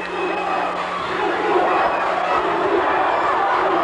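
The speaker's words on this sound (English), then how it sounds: "The crowd is on their feet." Basketball crowd at a New Rochelle game roaring on its feet during a tight late-game moment, a dense, loud, sustained wall of cheering and shouting with scattered voices throughout.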